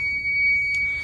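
Electronic warning beep inside a 2014 Honda Odyssey EX-L VMI Northstar wheelchair van, sounding after the seat override switch is flipped: a steady high tone held throughout, with a brief louder chirp near the end, no talking.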